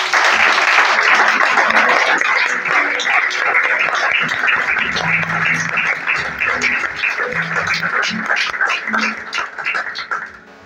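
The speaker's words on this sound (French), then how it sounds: "Est-ce qu'on peut l'acclamer ensemble?" A church congregation applauds together for a sustained stretch, dense clapping mixed with cheers and voices, loud and steady before tapering off at the end.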